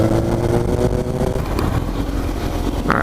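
A motorcycle engine runs steadily in third gear on a first ride, a low, close drone with a slight throttle rise, heard alone with wind rush over it.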